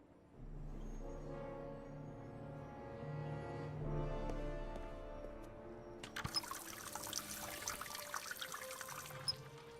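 Water from a tap in the video game The Raven starts as a low steady pour, then turns into a brighter splashing trickle with small drips, quiet and without talk.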